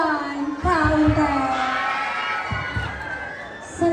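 Pageant audience at a Bb. 123 2026 national costume segment cheering and shouting, loud bursts of whoops and excited voices rising and falling, with a strong toned voice ringing over the crowd and a fresh burst at the end.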